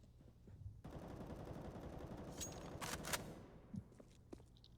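A full rifle magazine sprayed down a hallway on the Mirage map in CS:GO makes a dense, continuous stream of rapid gunfire lasting a few seconds, fairly faint and distant, with no voices.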